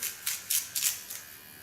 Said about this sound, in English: I only clean it with the clipper.